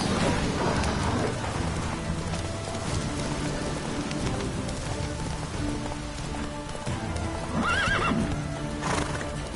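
In Skyrim, the horse Roach gallops through rain with steady clip-clop hoofbeats under a constant hiss of rainfall, and a clear whinny rises near the end.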